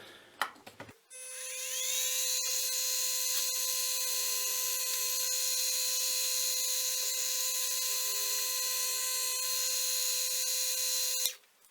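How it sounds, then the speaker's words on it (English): A drill bores pinholes in knife handle material for a chef knife, giving one steady, high whine that holds for about ten seconds and then stops abruptly. "So let's go ahead and get these pinholes drilled."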